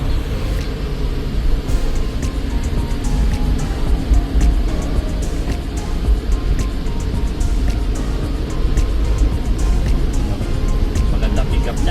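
A turbocharged DA17W 4x4 automatic on a road test, with a steady low engine and road drone heard from inside the cabin, continuous and fairly loud with light ticks and rattles.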